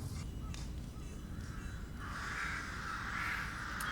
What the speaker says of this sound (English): Them birds again.